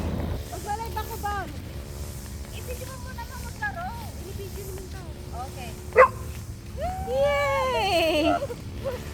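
A pet dog named Ali plays on a beach, giving whining, yelping barks in a few scattered bursts over steady surf and ambient noise, with a livelier run of excited yelps near the end.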